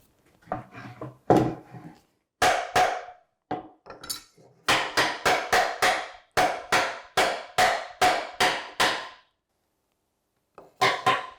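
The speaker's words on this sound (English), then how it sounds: "Bigger hammer." A hammer taps a wooden joint of a chest of drawers in sharp, evenly spaced knocks, several quick bursts of blows separated by short pauses, close by.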